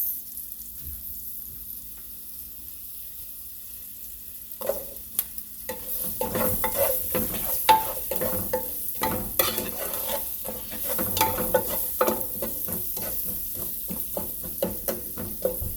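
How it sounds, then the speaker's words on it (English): Carrots go into a soup pot for a Spanish-style soup, bringing a soft, steady sizzle with repeated stirring scrapes and clinks of a utensil against the pot, growing busier after the first few seconds. "I'm going to add in the carrots."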